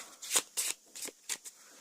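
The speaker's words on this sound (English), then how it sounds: "Let's shuffle the discard into the deck." Several quick riffling bursts of Arkham Horror game cards being shuffled, close and fairly quiet, about five short flurries in a row.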